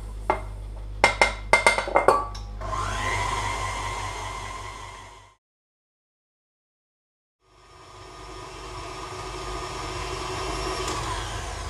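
Electric mixer whipping softened, room-temperature butter for bredele biscuits, a steady loud motor drone that runs, cuts out for a couple of seconds, then starts again, with a few clattering knocks at the very start.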